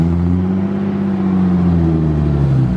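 A BMW E30 with a cheap welded exhaust revs close by, its engine droning loud and gruff with a slowly rising and falling pitch, nothing but engine noise throughout.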